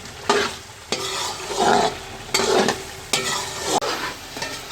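Chicken karahi with black pepper and turmeric fries in a pan, a close sizzle punctuated by repeated rhythmic scrapes and stirs of a spatula against the metal, with no speech.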